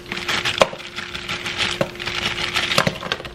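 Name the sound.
frozen broccoli being added to a simmering soup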